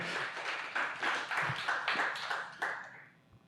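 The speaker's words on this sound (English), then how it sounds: "So let's applaud Shawn." Scattered claps build into brief applause from a small crowd at a live TIFA 2023 event, fairly quiet and somewhat distant, tapering off after a few seconds.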